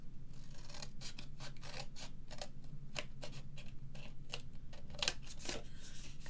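Scissors snip through card being cut for a small Kinder egg gift box, a steady series of short, crisp cuts close to the microphone in a quiet room with no talking.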